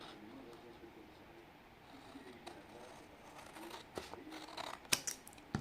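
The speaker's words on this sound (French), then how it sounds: "on va couper aussi l'autre côté" Scissors snip through paper for a sewn gift pouch, a run of soft close crunching cuts that grows busier and louder toward the end, with faint room noise and a few small clicks.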